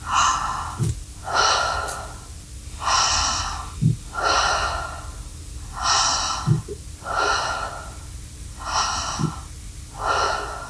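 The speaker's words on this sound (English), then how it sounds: "So breathe into your belly and relax the exhale. I'll just demonstrate." Slow belly breathing with relaxed exhales, about eight soft, airy breaths in a steady unhurried rhythm, close and clear with no talking.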